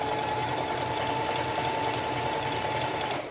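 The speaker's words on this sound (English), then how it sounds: "Just line it up and sew." A sewing machine stitching fringes onto a shirt runs in one steady, continuous whir close by, with a fast even needle rhythm and a faint high tone, no voices.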